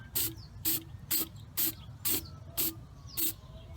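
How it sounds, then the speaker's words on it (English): White spray paint hisses into a glass jar in eight short, evenly spaced bursts, close and loud, with quiet pauses between them. "And all we're just gonna do is just spray it inside of there."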